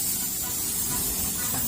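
Air hisses steadily from a motorcycle tire punctured by a nail, a continuous close spray-like leak that runs unbroken without pause.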